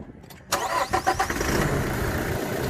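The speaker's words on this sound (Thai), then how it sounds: "เรามาฟังเสียงเครื่องยนต์กันนะครับ" A 2.8-litre Toyota Revo pickup diesel engine cranks briefly with a few chugging turns, then catches and settles into a steady, clattering idle nearby.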